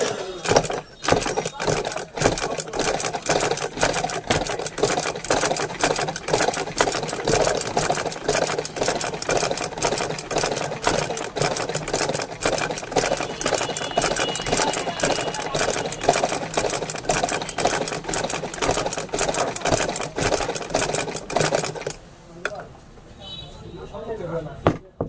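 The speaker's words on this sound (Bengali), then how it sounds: "ফিটের যে লিফটার আছে এই লিফটারটি নিচে নামিয়ে দিয়ে এখন মেশিনটি চালিয়ে দেখাবো।" Sewing machine running with the presser foot lowered for cutting and setting cloth work, a loud, close, rapid clattering hum that continues steadily for over twenty seconds before stopping.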